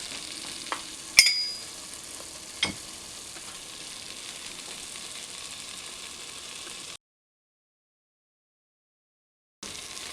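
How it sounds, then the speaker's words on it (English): Chhena sandesh mixture with date syrup is stirred and scraped in a pan, giving a steady soft sizzling hiss with a few sharp scraping clicks early on. Dead silence follows before the sound briefly returns. "Keep stirring and scraping until it dries."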